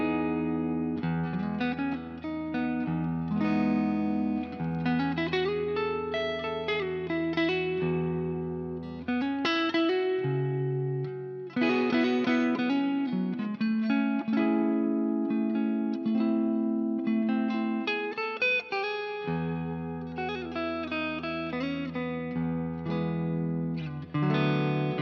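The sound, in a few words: G&L ASAT electric guitar played on neck pickup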